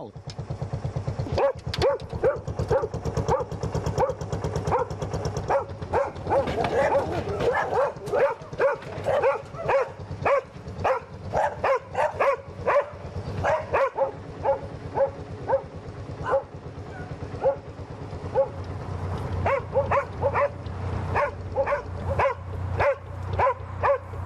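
A dog on a passing canal boat on the Leeds-Liverpool Canal barks repeatedly in loud, rapid bursts, some sharp yips mixed in, close by and continuing steadily over a low background hum.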